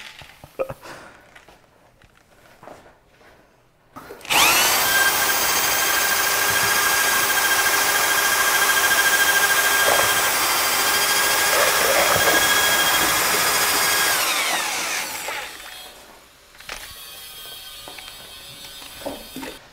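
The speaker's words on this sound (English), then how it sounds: "now the fun part is I get to use a drill." A loud, steady electric drill whine runs continuously for about ten seconds, close up, with quieter handling noises before and after.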